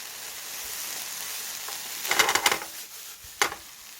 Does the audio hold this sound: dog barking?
no